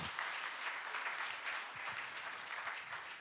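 A church congregation applauds continuously in a dense, steady wave of clapping that fills the room from start to finish.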